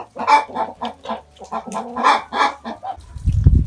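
A laying hen, kept alongside Amrocks and Bielefelder hens in a farmyard, clucks in a close, steady series of short rhythmic calls, fairly loud, before a low rumbling thud at the end.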